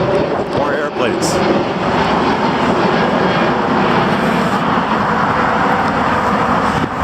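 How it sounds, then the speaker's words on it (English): A steady, loud broadband roar of aircraft engines fills the whole stretch, constant and close, like planes passing overhead. "More airplanes."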